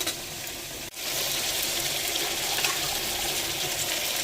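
Onion dropped into hot oil, with a loud, steady frying sizzle filling the whole stretch after a brief dip near the start, while mutton is being cooked at home.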